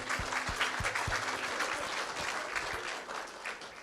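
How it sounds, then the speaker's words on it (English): An audience at a keynote address on black opal mining in Lightning Ridge, Australia claps in a warm, even round of applause that stays steady and fades a little toward the end. "I give them a round of applause for fine work."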